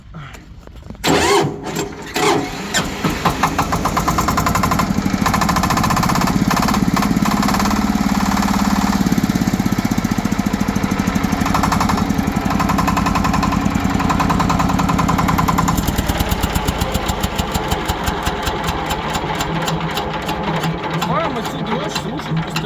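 A small tractor engine cranks and catches, then runs with a steady, rattling chug at close range, loud throughout, with a voice speaking over it at times.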